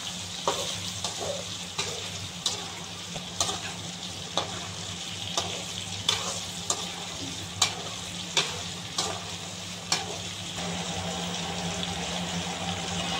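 Fresh prawns fry in a pan for pickle with a steady, close sizzle, while a utensil scrapes and stirs in regular taps about once a second over 13 seconds.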